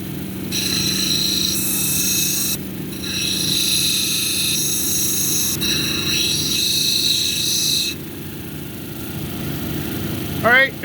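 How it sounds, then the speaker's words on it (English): A lapidary wheel grinds a Buddstone cabochon on a 220 grit wheel, making a steady motor hum with a grinding whine that rises and falls as the stone is pressed on and lifted. A voice speaks over it. "Let's move over to 220."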